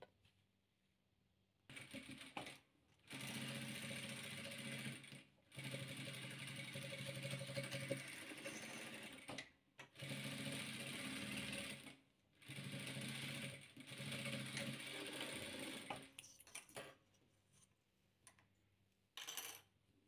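A sewing machine stitches blue and white 15-centimetre patchwork squares together in several loud, whirring runs of a few seconds each, separated by short quiet pauses as the fabric is repositioned.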